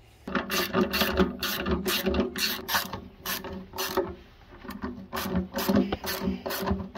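Metallic ratcheting and clicking while a part is unscrewed during a Suzuki DR 650 motorcycle restoration, with repeated short turns in bursts, close and fairly loud, with no speech.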